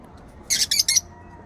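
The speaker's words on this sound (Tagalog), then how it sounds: "Bale, yung ibon natin na bumalik." A returning pigeon gives three short, rapid squawking calls close by, standing out against a quiet outdoor background.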